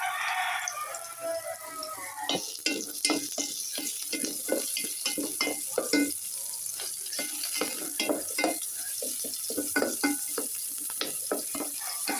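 Ginger added to onions frying in a pan, a bright sizzle with a busy run of stirring scrapes and clicks, a rooster crowing faintly in the background.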